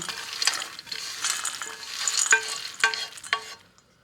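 Chopped nuts are stir-fried in a pan to dry them out for nut brittle, making a close, dry sizzling rattle with repeated scraping strokes of the spatula and a few sharper clacks, with no voices.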